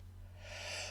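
A single sharp sneeze bursts out close by inside a converted camper van, rising suddenly halfway through and fading quickly over a steady low hum.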